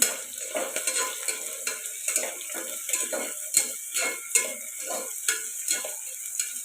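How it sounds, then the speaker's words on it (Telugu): Sliced onions fry in a pan for a country chicken (natu kodi) curry, with a steady sizzle under rhythmic scraping strokes of a spoon stirring roughly twice a second, close and fairly loud, with no talking. "ఇవి బాగా ఫ్రై అవ్వాలి"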